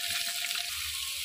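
Potatoes go into hot oil and fry with a steady, bright hiss that stays strong and close for a brief moment.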